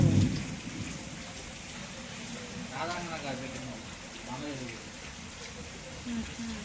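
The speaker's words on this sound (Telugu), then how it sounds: "చివరికి ఆ వర్షం కాస్త పడిపోయింది." Steady rain falls on surfaces nearby, a continuous soft patter and hiss with faint voices murmuring underneath.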